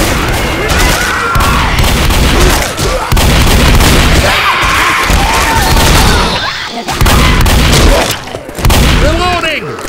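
Heavy booming blasts and gunfire from Boomer enemies in the Absolute Zero game, set in icy caverns, come in a dense, loud barrage that runs almost without pause, with players talking over the chaos.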